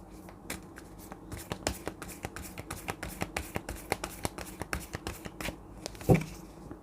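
Tarot cards being shuffled by hand, a quick run of crisp riffling flicks in steady rhythm, close and fairly quiet, ending with a firmer tap.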